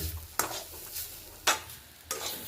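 Chana dal mixture stirred in a kadai, with three scraping strokes of a spatula against the pan over a low steady sizzle, close and moderately loud, no voices.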